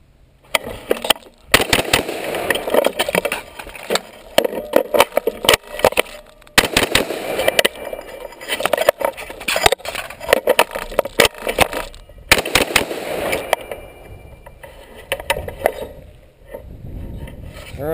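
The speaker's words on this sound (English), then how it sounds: "I'm going to be running 3 rounds mag change, 3 rounds mag change, 3 rounds mag change, shooting all center mass" A Beretta ARX100 rifle fires in short strings of three sharp, loud reports at an outdoor 10-yard range, each burst followed by a pause and clattering magazine changes, repeating several times with no talk.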